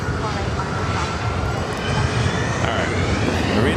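A SkyWest airliner taking off at LAX, a loud broadband roar of jet engines rising steadily throughout, with a voice talking over it.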